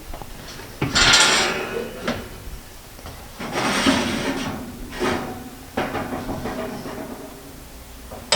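Tins of apple cake being put into a home oven: a few loud scraping, sliding clunks of metal on oven racks, separated by short pauses, close and clear with no talking.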